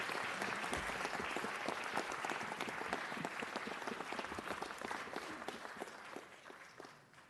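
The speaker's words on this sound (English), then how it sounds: "Give him a round of applause." An audience at a city council meeting claps steadily for several seconds, a dense patter of hands that slowly thins and fades toward the end.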